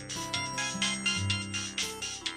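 A mobile phone ringtone plays alone, a bright melodic tune with a pulsing, repeating pattern at moderate loudness and no talk over it.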